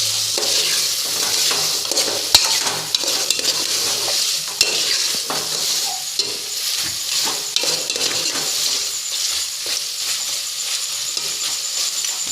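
Hyderabadi chicken curry stirred in a pan: a steady sizzle with the repeated scrape and clink of a spoon against the pan, close and continuous, with no talking.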